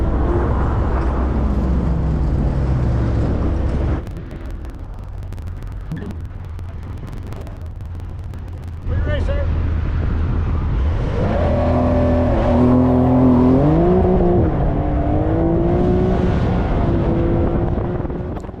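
A Porsche 911 GTS at an autocross, engine running close to the microphone with wind buffeting, a quieter stretch, then the flat-six revving up and climbing through gears as the car pulls away.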